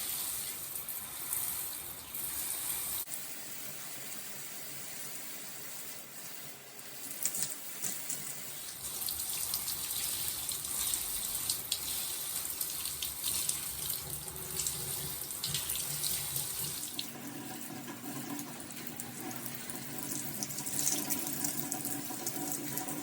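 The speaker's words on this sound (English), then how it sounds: "Here I'm waiting for the water to get hot because I do not detangle with cold water whatsoever." Tap water runs steadily into a sink as it warms up, a continuous hiss and splash heard close and alone, with a brief shift in the flow partway through.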